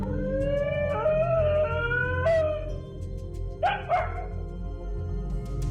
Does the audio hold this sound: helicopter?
no